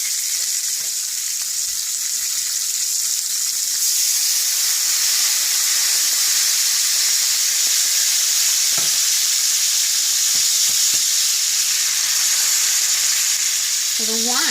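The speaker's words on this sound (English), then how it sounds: "you can see it's reducing really quickly and popping" Red wine reduces rapidly in a hot pan around browned pork chops, giving a steady, loud sizzling hiss with scattered sharp pops close by throughout.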